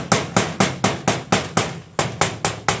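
A rubber mallet knocks on a floor tile being laid on mortar again and again, roughly eleven blunt thumps at an even brisk pace, close and fairly loud, with no voices.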